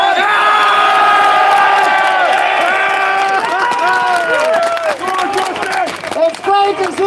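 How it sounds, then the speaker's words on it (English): A large protest crowd in Dublin cheers and whoops outdoors, a loud sustained roar with rising shouts and scattered yells that grows busier toward the end. "It's great to see such a massive crowd of communists out here today to support the Fianna Fáil Fine Gael"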